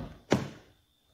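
The electric side step of a Hyundai Staria van retracts with a single dull thunk up close, then goes quiet.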